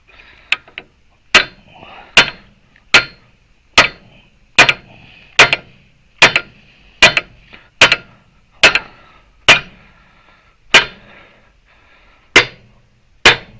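Hammer blows on a chisel against a seized hydraulic cylinder pin on a Case 580 backhoe outrigger ram: about fifteen sharp, loud metallic strikes at a steady, slightly uneven rhythm, with no talk.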